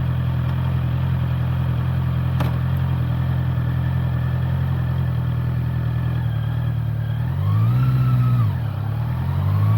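A 2026 Honda CB650R motorcycle engine runs steadily up close, its low throb rising and falling as gears are shifted, with a brief rev near the end.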